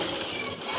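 A sewing machine stitches a boat neck top in a brief, steady, rapid mechanical whirr.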